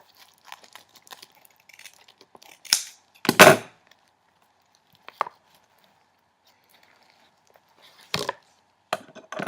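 Scattered crisp snips and crunchy cuts, like scissors slicing paper, coming in irregular bursts with quiet gaps between, close by.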